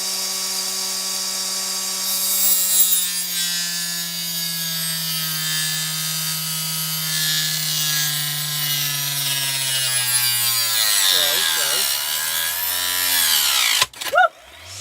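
A power saw cuts through wood for a holiday tray, a steady loud whine with strong harmonics that slowly drops in pitch under load, then bogs and stops abruptly near the end.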